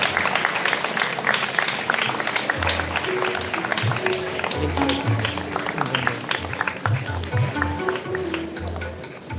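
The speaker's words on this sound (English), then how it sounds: "give them a big round of applause as we extend a warm welcome to our honorable judges" Broad crowd applause welcoming judges at a junior college event, continuous and fairly loud over nearly ten seconds, with low music or voices faintly underneath.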